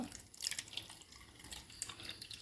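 Faint trickling and dripping of water being poured into a pan, quiet and close, with small irregular splashes.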